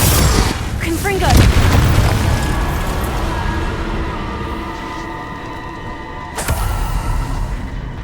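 Confringo spell blasts in the video game Hogwarts Legacy land as deep, loud booms, one early and another near the end, over continuous rumbling game noise. A voice shouts spell names.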